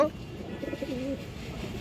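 A female pigeon, a large black lace khoragola hen, coos in a short burst of low, rolling notes close by, with faint background murmur.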